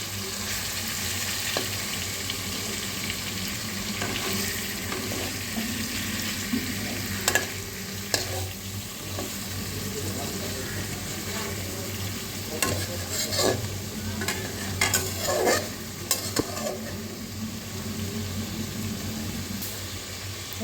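Hilsa fish pieces fry in a pan for a kalo jeera bata ilish curry, the steady close sizzle punctuated by scattered scrapes and clacks as they are stirred and turned.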